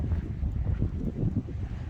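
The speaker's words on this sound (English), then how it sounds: "It's pretty windy out here," Steady low wind buffets the microphone outdoors at an abandoned garage of classic cars, a rumbling gusty roar with no other clear sounds.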